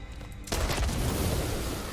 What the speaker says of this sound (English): I caused an explosion with that one.